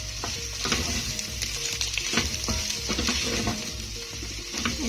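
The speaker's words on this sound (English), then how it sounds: "And then I will mix everything together." Vegetable rice with mixed herbs sizzling steadily in a hot pan, a spoon scraping and clinking in a loose rhythm as it is stirred, close-up and with no talking.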